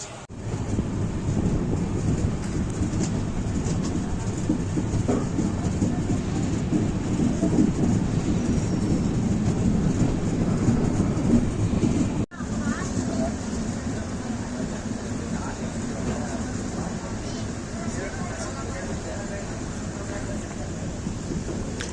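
A passenger train to Mysore rolls steadily along the rails, a continuous low rumble with wind buffeting the microphone, heard from inside or close by.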